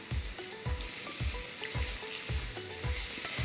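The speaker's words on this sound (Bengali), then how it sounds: "এবার এটাকে বন্ধুরা একটু ভালো করে তোমাদেরকে ভেজে নিতে হবে পুরোটা।" Chopped green chilli, onion, capsicum and carrot strips with a little salt fry in a pan for garlic pasta, giving a steady sizzle broken by rhythmic thumps as the vegetables are stirred, with no one speaking.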